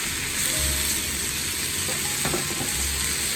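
Mushrooms fry in a pan with a loud, steady sizzle and crackle, with a couple of brief scrapes or clicks from stirring and no talking.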